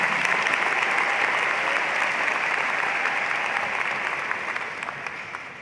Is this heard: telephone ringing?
no